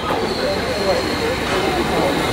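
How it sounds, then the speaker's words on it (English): A London Underground tube train, heard as a loud, steady rumble and rushing roar that carries on without a break and drowns out any other sound. "just about to jump on the tube now"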